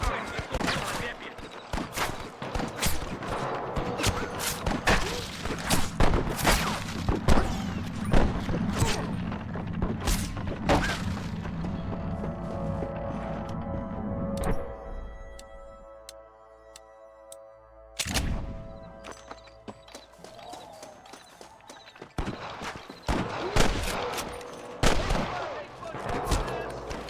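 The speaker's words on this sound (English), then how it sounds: "I can hear more gunshots" Repeated gunfire crackles and booms in bursts across a noisy Red Dead Redemption 2 soundscape, with sharp shots and a lull before firing resumes, voices faintly mixed in.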